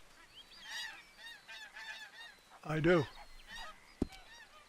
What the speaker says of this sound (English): Thought I heard some geese or something.